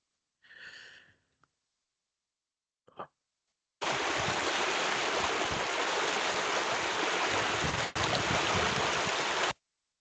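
Flowing water on a meander of the River Severn, a broad steady rush that begins after some brief scattered sounds and runs loud and unbroken for several seconds before cutting off, with one brief dip midway.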